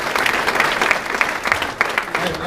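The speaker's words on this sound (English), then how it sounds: "let's give these gentlemen a round of applause." Steady applause from a crowd, a dense wash of clapping with a few louder claps standing out, continuing throughout.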